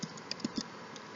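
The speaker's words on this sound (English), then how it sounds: "You'll notice I start typing in" Light typing on a computer keyboard: a few soft, quick key clicks in an irregular sequence, close but quiet, with no voice over them.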